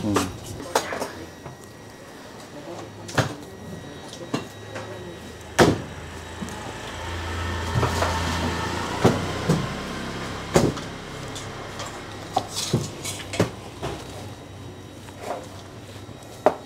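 A knife trimming white fat from pork leg at a Hanoi bún mọc noodle stall, sharp, irregular chops and knocks on a board over busy street-stall noise, with people talking throughout.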